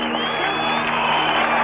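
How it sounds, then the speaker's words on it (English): Cricket crowd at a 1987 World Cup match between Pakistan and Sri Lanka, a loud, sustained roar of cheering from a large stadium audience, with a commentator's voice faintly beneath it. "Crowd rising, in fact."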